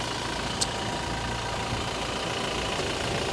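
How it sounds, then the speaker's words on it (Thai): A 2018 Toyota Revo Smartcab 2.4 E Prerunner automatic pickup engine idles, a steady, even low hum recorded from a short distance with no speech over it. "เนี่ยสตาร์ทไปอยู่ตอนนี้นะครับ"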